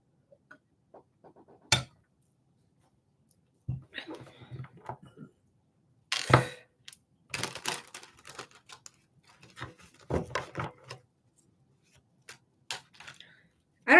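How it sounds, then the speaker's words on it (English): Cards are shuffled in bursts of quick riffling clicks and flutters, broken by short pauses and occasional soft handling taps, close up. "I don't ever shuffle my cards like this anymore."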